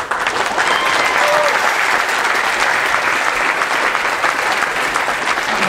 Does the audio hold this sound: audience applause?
yes